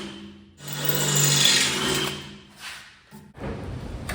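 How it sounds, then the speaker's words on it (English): A power drill bores out an old rivet nut in metal on a 1970 GMC 2500 truck, a loud whirring grind in two bursts separated by a short pause. "I'm going to drill it out"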